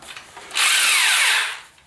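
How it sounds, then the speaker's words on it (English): An electric drill fitted with a paint mixer paddle churns drywall texture mud for an orange peel sheetrock finish, a loud close whir that rises quickly, holds for about a second and then winds down, with no voices. "Plug my drill in."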